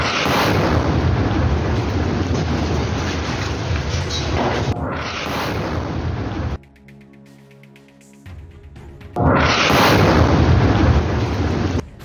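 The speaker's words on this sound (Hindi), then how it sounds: "हमास के लड़ाकों ने इसी बिल्डिंग को बारूद से उड़ा दिया।" Loud, sustained rumbling blast from a building in Jabalia, Gaza, blown up with hidden explosives during fighting between Hamas fighters and IDF troops, with a sharp cutoff, a quieter gap, then a second heavy roaring surge.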